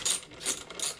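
A ratchet turns a 12 millimeter bolt on a Grom motorcycle while fitting rear-set savers, three quick rhythmic bursts of clicking up close, with no voices.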